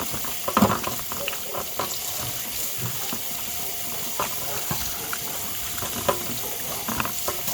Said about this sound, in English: Now we can wash our hands.